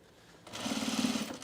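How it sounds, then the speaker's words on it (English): A sewing machine stay-stitching the waistline of men's cargo shorts starts up after a quiet moment and runs in a steady, close, buzzing stitch rhythm. "So I stay stitched my waistline"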